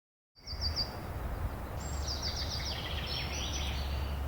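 Looping outdoor bird ambience for game sound design, with bright chirping calls in short repeated bursts over a steady low wind-like rumble, fairly quiet and continuous after a sudden start.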